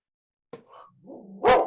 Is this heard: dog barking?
yes